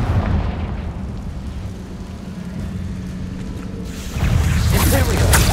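A Confringo spell blast in the game Hogwarts Legacy, heard as a loud, dense rumbling roar that swells again into a bright crackling burst near the end.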